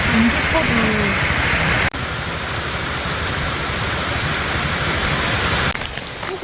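Running water in a forest during a dog walk, a loud, steady rushing and splashing close by that fills the whole clip, with a brief break and a few knocks near the end.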